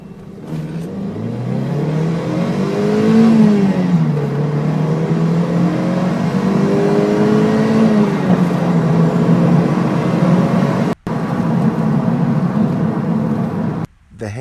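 A 2004 Toyota MR2 (ZZW30) with a five-speed sequential gearbox revs loudly and up close, its engine pitch climbing and falling through several sweeps over a steady drone, with no talk heard.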